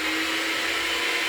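An electric mixer whirs steadily at high speed, blitzing brown and white sugar in a bowl, a loud continuous close-up drone with no breaks.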